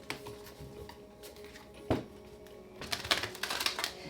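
Crisp riffling clicks of tarot cards being shuffled, a short burst, a sharp slap, then a longer fluttering run of snaps.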